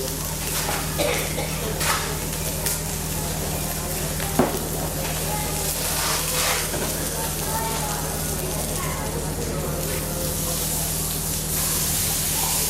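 An oyster sears in a hot frying pan, giving a steady close sizzle and crackle of frying throughout, with a few faint pops and clicks.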